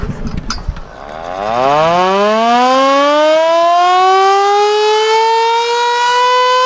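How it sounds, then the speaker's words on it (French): A loud mechanical siren winds up from a low growl to a sustained, rising wail, close and alone after a brief rattle at the start. "Vous voulez un petit essai de la sirène?"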